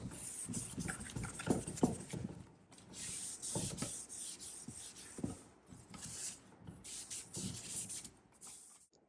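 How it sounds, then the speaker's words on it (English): A cloth rubs and buffs wax across the wooden surface of a dresser being refinished, producing soft, steady swishing strokes in repeated passes, close and fairly quiet. "your cloth will glide smoothly and your surface will begin to shine"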